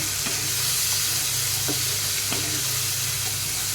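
Ginger-garlic paste and chili powder, with a pinch of sugar, sautéing in a pan for a raw banana kofta curry, giving a steady close sizzle and hiss with a few soft stirring clinks.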